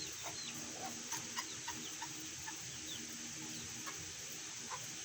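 Adult hens in a coop give soft, scattered clucks and short calls, faint and somewhat distant over a steady background hum.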